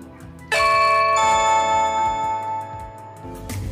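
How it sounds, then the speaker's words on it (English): A Blink Mini camera rings as an indoor doorbell chime when the Blink front doorbell is pressed: a loud, bright multi-tone chime rings out and slowly decays, with a faint ticking underneath and no talk. "So I'm gonna go ahead and hit my Blink front doorbell. I have it linked up with the camera, so it should chime in the house."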